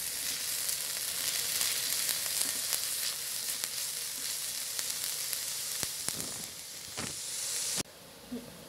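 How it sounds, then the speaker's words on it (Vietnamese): Garlic sizzles in hot cooking oil in a pan, a steady, loud frying hiss throughout with a few sharper crackles near the end and a sudden drop in level just before it stops. "Rồi dầu ăn nó sôi rồi thì mình cho tỏi vào nha các bạn"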